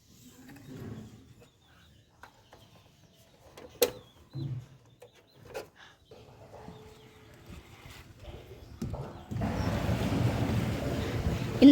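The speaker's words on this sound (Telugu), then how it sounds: "ఇప్పుడు వాటర్ ప్లాంట్ని అయితే ఆన్ చేయబోతున్నాను" A water purification plant starting up after being switched on, with scattered clicks and knocks followed by a sudden rise into a steady, broad rushing hum of running machinery and water near the end.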